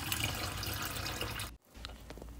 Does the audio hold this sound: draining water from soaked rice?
yes